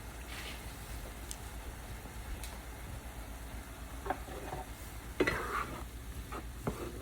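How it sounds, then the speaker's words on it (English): Vegetables and butter-infused sweet potatoes sizzling in a pan while being stirred, a quiet steady frying hiss with a few close scrapes and clinks of the spoon. "I'm gradually coming back to stir my vegetables, make sure they're not burning."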